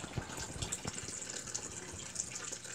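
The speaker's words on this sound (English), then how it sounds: "this is a Texarkana. This is a Texarkana filter." A Texarkana filter in a 20 to 40 gallon reptile tank keeps water trickling and splashing in a soft, continuous flow with small irregular bubbling spurts, faint and close.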